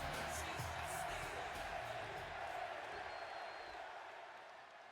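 A large arena crowd in Chicago roars in the wrestling video game WWE 2K26, a broad steady wash of cheering that fades slightly toward the end.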